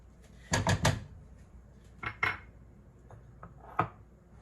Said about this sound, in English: I'm going to go ahead and give that a stir